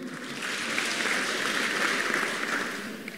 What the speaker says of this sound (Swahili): Apigwe makofi.